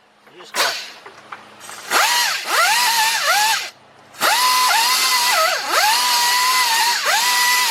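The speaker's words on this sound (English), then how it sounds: "I'm gonna still go over with the surface grinder" A surface grinder works over the aluminum surface of a 2003 Nissan Maxima GLE 3.5 engine during a partial rebuild. A loud high-pitched whine rises and dips repeatedly, breaking off briefly twice as it bogs and recovers under load, with talk at times.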